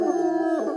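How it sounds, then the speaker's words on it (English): Several dogs howl together in a sustained, wavering, harmonic chorus, close and fairly loud, filling the whole short moment without any talk. "all the dogs are howling."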